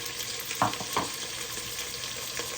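Potatoes and onions fry in a pan for a tomato rice lunch, with a low steady sizzle and two soft stirring clinks near the start.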